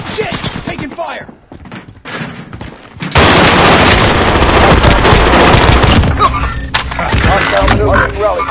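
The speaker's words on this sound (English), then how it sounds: "Taking fire!" Heavy automatic gunfire in a military shooter video game breaks out suddenly after a few seconds and continues loud and dense to the end, with shouted voices and scattered shots before it.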